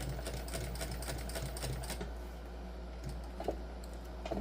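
A sewing machine stitches a few quick stitches on a crossbody bag, a rapid ticking patter over a steady low motor hum, close and moderately loud.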